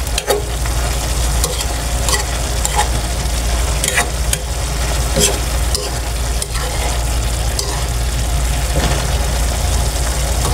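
Bitter gourd and chicken liver being stirred and fried in a pan, a steady loud sizzle with repeated sharp scrapes and clacks of the utensil against the pan throughout.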